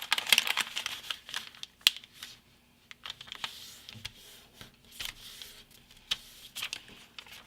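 Paper being folded into an origami pirate ship gives crisp creases, crinkles and sharp rustling taps in irregular bursts, close up and fairly quiet with brief pauses between folds.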